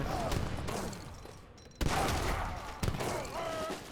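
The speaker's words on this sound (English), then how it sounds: "the cannons are working quite well for blue" Papal Bombard cannons in an Age of Empires 3 battle boom in a dense fusillade, with two sharp heavy blasts standing out over continuous battle noise and faint commentary.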